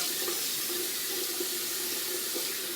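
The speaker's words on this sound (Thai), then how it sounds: "ทีนี้เราก็เปิดเป็นน้ำนี่ค่ะ ธรรมดาอย่างนี้ค่ะ" Tap water running steadily into a sink at a face-washing basin, a close, continuous hissing splash with faint bubbling and no talk.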